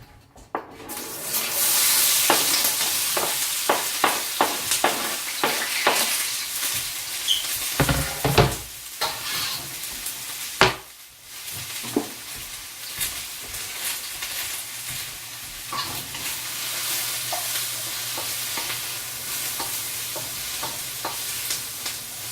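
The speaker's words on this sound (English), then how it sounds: "Let's cook some onions." Onions frying in a pan for sweet and sour pork give a steady, close sizzle, broken by frequent sharp scrapes and clatters of stirring, with no talking.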